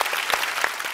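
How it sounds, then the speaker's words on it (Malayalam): Brief, dense applause from a crowd at a televised award-winners' gala event. About a second of continuous clapping is heard, with no voices. "ഒരു പ്രത്യേക കൈയടി"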